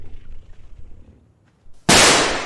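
A single loud, sharp gunshot goes off in the ARK video game on the Scorched Earth map. Quiet, low background murmur comes first, then the abrupt blast near the end.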